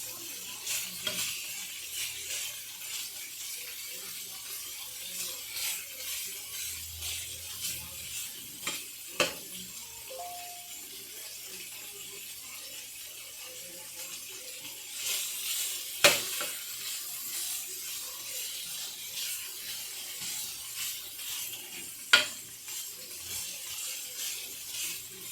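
Beef sauce sizzles and browns in a pan, a soft, steady crackle running throughout, broken by occasional stirring scrapes and a few sharp utensil clinks.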